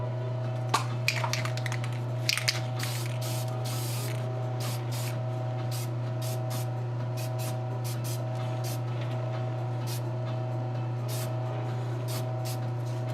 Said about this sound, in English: Just kind of hit it with the tester's dull coat.